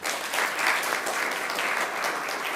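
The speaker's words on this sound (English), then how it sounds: "let's clap for this lady" At a software summit breakfast, an audience applauds a woman with steady, even clapping that carries on without pause for a couple of seconds.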